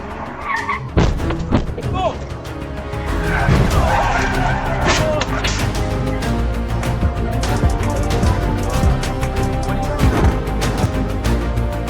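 A car crash follows a reckless lane change in traffic: tires squeal and skid loudly, then a hard impact and scraping, over a continuous bed of music.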